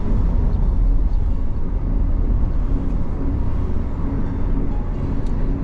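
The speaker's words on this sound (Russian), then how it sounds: "Это машины все едут," Steady, loud low rumble of cars and trucks travelling along a road near a petrol station, a continuous wash of traffic noise with no voices.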